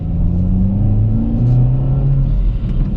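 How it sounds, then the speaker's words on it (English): A 2020 Kia Forte GT with a manual gearbox and turbocharged engine, heard from inside as a steady low engine drone with slight pitch shifts during rev matching, loud and continuous with no talking. "it's not the happiest engine to do rev matching"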